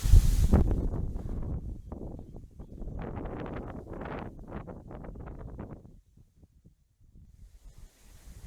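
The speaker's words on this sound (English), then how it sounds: "Prepare for the wind, everybody." Strong wind buffets the microphone at an abandoned historic quarry site in Kent, a loud low rumble that gusts and then fades into near-quiet toward the end.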